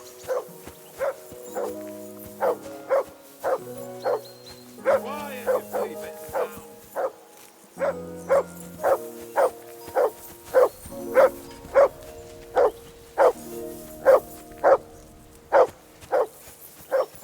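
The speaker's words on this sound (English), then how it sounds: "Do something with that mutt, Henry. It's doing my head in." A dog in the video game Kingdom Come: Deliverance 2 barks in a steady, repeated run of loud, close barks across the whole stretch, with a few short pauses and game sounds underneath.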